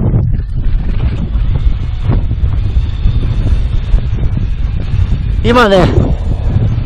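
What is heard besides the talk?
strong wind on winter mountain ridge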